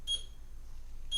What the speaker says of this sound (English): My son's alarm was about to go off